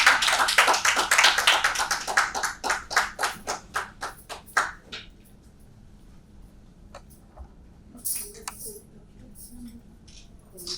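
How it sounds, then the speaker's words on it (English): Audience applause for panel members at a literature festival, a rhythmic round of clapping that is loud at first and thins into spaced individual claps before fading, with scattered quiet sounds afterward. "Please give a few round of applause."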